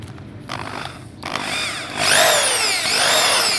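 A power drill bores into material. After quiet handling noises, it whirs up loudly and close at about two seconds, its whine rising and falling as it bites.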